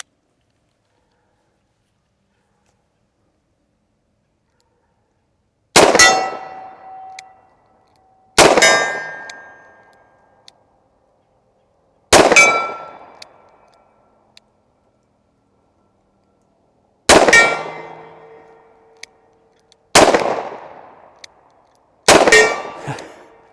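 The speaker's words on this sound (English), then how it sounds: "Shoot one more cylinder full through it" A Smith and Wesson Model 29 revolver fires a full cylinder at a steel target outdoors, five loud sharp shots spaced a few seconds apart, each followed by a ringing metallic clang.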